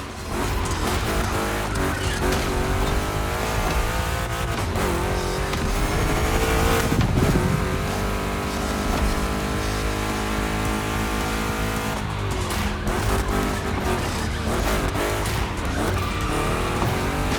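Two big-block Chevy race cars roar through a race in The Crew Motorfest, with sustained loud engine drone and shifting revs, plus moments of tire squeal and skidding through the turns, and no speech.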